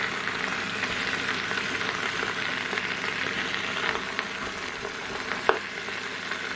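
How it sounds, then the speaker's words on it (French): Rabbit pieces browning in a frying pan, a steady close sizzle and crackle of hot fat running throughout, with a brief sharper pop near the end. "il faut bien faire dorer la viande"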